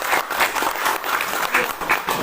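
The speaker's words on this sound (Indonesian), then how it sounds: "Berikan aplaus yang meriah kepada beliau." Audience at a company event in Indonesia clapping together, a dense continuous burst of applause with steady rhythmic hand claps filling the room, fairly loud and close, no talking over it.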